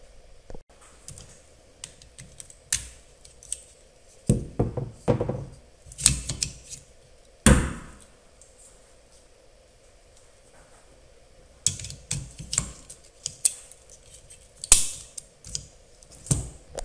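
Several sharp plastic clicks and snaps as a wiper blade is fitted and locked onto the arm of a 2023 Toyota 4Runner, close and crisp, in irregular bursts with quiet gaps between, no talking.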